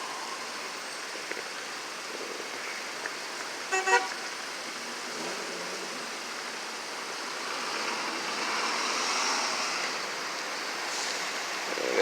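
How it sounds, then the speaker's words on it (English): Stuck traffic with an ambulance blocked in, a steady wash of road noise and engine hum throughout, a short burst of horn toots near the four-second mark, and the rumble swelling slightly toward the end. "The ambulance can't even get through because of the traffic."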